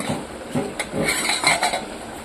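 A lid lifted off a steel cooking pot of simmering drumstick curry, with a few close metallic clinks and scrapes against the rim over about two seconds, no talk.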